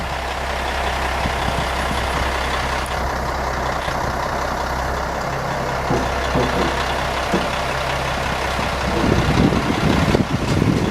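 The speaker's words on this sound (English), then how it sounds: "There's this big cement truck over here." Big cement truck running at a construction site pouring footings, a continuous low engine rumble and drum churn close by, with mechanical clatter and scraping growing louder toward the end.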